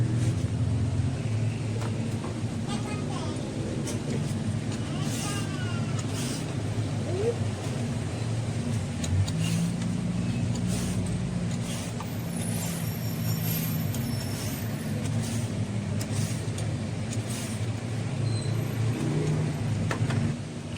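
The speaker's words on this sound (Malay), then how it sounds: "Saya duduk kat tepi highway lori lah, bas dah lalu." Heavy lorries and buses roll past on a nearby highway in a continuous low rumble, with occasional hissing air brakes and passing vehicle swells, while someone talks nearby.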